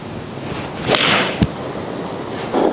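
A Ping i230 iron strikes a golf ball in one sharp, firm impact near the middle, followed by a soft whoosh of the ball's flight amid outdoor ambience.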